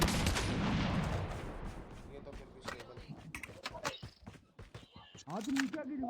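Gunfire in the mobile battle royale game Call of Duty Mobile, a squad match: quick bursts of shots crackling loudly at first, then scattered sharper reports mixed with footsteps and other game noise, with a voice talking over parts of it.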